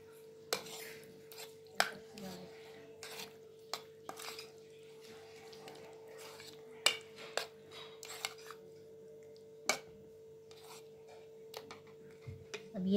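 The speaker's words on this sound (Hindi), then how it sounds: "इसके अंदर हम ये कॉकटेल शामिल करेंगे। और इसको इस तरह से मिक्स कर लेंगे।" Whipped cream being mixed with fruit cocktail in a bowl, with soft intermittent scrapes and clinks of a utensil against the bowl over a faint steady background hum.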